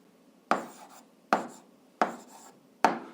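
Four separate bursts of pen or pencil scratching on paper while an algebra answer is written down, each stroke cluster sharp at onset and trailing off, spaced roughly evenly in an otherwise quiet room.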